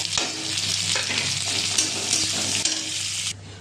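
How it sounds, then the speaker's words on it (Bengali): Chopped onion hitting hot oil with crushed garlic, a bright continuous sizzle with a few stirring knocks, close and fairly loud, cutting off abruptly near the end. "এবার বড় একখানা পেঁয়াজ অ্যাড করলাম"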